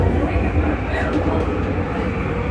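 A train rolls steadily along the rails in Vancouver, Canada, with a continuous low rumble and rattle, nearby and fairly loud.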